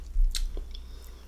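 Soft, wet chewing of a sushi uramaki topped with fish roe, close and quiet, with a few small squishy bites and no talking.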